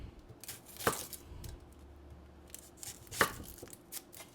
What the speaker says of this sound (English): Now we're just going to go ahead and chop that onion up.